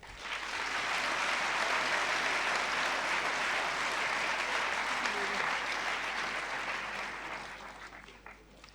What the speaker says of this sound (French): donc on va simplement les féliciter et les applaudir